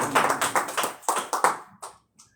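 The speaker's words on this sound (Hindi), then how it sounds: "हम पास्टर दिल के लिए जोरदार तालियां चाहिए" Brief bursts of clapping from a church prayer-meeting congregation greeting Pastor Adil, several quick rounds of hand claps that thin out and stop within a couple of seconds.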